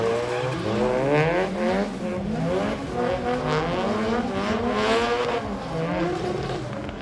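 A street car's engine runs hard on a dyno at a Melbourne car show, a loud, sustained wavering roar that rises and falls in pitch, with no voices.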